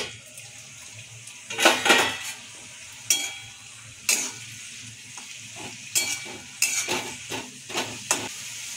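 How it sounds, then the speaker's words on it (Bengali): Shulfa greens fry in a pan, a soft sizzle under a series of sharp stirring scrapes and clatters that come in irregular bursts, close and fairly loud, with no talking. "শাক ভাজাটা প্রায় হয়ে গেছে"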